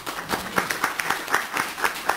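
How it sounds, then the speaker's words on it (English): Applause from a small audience at a commission meeting: scattered, fairly faint individual claps in an uneven rhythm, lasting about two seconds. "I'll gladly join in the applause"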